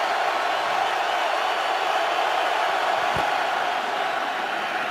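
A stadium crowd roars steadily at a Seattle Seahawks home football game against the Atlanta Falcons, a broad, constant wash of distant cheering with a brief low thump partway through.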